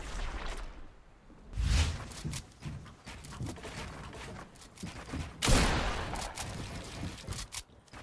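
Gunfire in Fortnite Battle Royale, a few sharp game shots with two louder bursts standing out among busy in-game clatter and movement sounds, moderately loud, with no talking.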